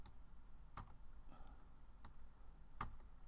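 Typing on a computer keyboard while entering a network address, heard as a few sparse, faint clicks spread over a quiet background with no talking.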